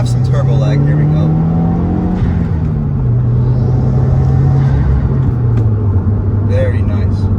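A Subaru WRX pulls hard in second gear, its engine note rising steadily and then stepping down in pitch, with a loud, close cabin rumble and turbo whoosh under talking.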